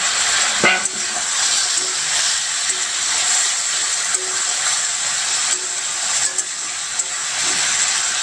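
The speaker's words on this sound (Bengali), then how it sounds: "তো মাংসটা কষানো হোক" Meat being sautéed uncovered in a pan on a village kitchen stove, a loud steady hissing sizzle filling the whole stretch, with an occasional faint clink or scrape.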